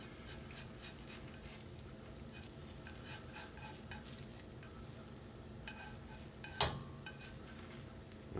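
Egg for a Japanese omelet cooks in a pan over the heat, giving a steady soft sizzle throughout with light stirring and scraping, and one sharp utensil clink near the end.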